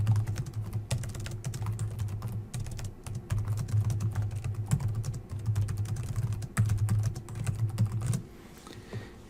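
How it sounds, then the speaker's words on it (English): Steady, rapid clicking of a computer keyboard as content is typed into an eLearning course page, close and clear over a low background hum, stopping abruptly near the end. "you can do that by simply typing the content in there"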